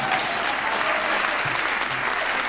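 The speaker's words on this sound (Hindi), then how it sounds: "ताली बजाओ इसके लिए।" Audience at a Hindi comedy poetry show bursts into loud, continuous applause, a thick, steady roar of clapping filling the room with no talk over it.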